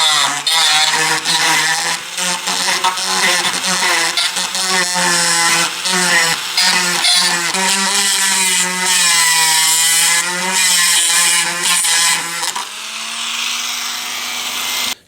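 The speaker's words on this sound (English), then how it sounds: "I got my Dremel out. I'm just using a little bit like this." Dremel rotary tool with a small bit grinding the speaker trim on an Indian Roadmaster motorcycle, a loud continuous high whine with shifting pitch and steady rasping, easing off to a quieter hum near the end.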